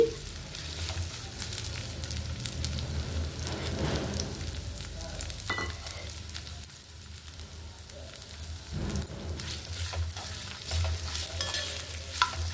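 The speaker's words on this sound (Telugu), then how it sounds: "మనం ఇప్పుడు కట్ చేసి పెట్టుకున్న ఉసిరికాయ ముక్కలు ఇందులో వేసి బాగా వేయించుకోవాలి." Amla (Indian gooseberry) pieces fry in about two spoons of oil in a pan, a steady close sizzle with occasional stirring scrapes, no talking.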